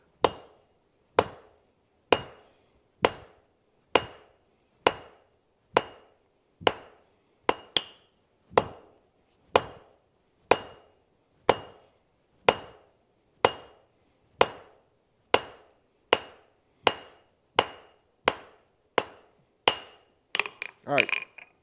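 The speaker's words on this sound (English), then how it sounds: "I'm going to use the flat side of my hammer because I don't need it to be super aggressive." Flat face of a blacksmith's hammer striking hot metal during a forging session: sharp, loud metallic blows in a steady, even rhythm of roughly one per second, ending in a quicker cluster of lighter taps, with no talking.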